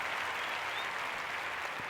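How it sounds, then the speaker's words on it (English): A studio audience claps steadily for a podcast guest, the applause dense and even throughout with no break or talk over it. "Y'all clap for Cookie"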